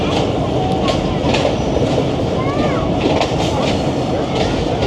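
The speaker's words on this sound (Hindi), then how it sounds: "ट्रेन हमारी अप्रोच बना रही है, पहुंच गई है टेक्सला स्टेशन।" The 267UP train pulls into Taxila station on the Rawalpindi to Havelian line, a loud, close, continuous rumble with rhythmic wheel clatter and brief metallic squeals rising over it.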